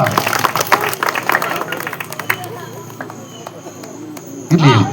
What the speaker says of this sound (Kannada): ಒಂದು ಕೈ ಚಪ್ಪಾಳೆ ಸಹಕಾರ ಮಾಡಿ ಗ್ರಾಮಸ್ಥರು ಎಲ್ಲರೂ ಕೂಡ